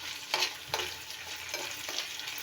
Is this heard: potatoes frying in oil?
yes